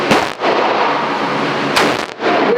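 Real firearms at a Los Angeles shooting range, among them an AK, M4 and sniper rifle: two loud, sharp gunshots roughly a second and a half apart, each followed by a sustained roaring echo.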